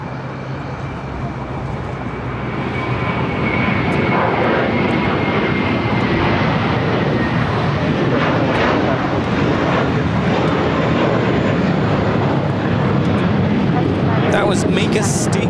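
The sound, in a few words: JetBlue Airways A321 jet at LAX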